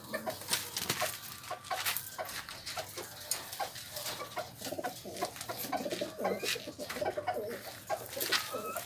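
Racing pigeons coo repeatedly in a busy loft or coop, with overlapping throaty calls and soft rustling close by, alongside other bird sounds.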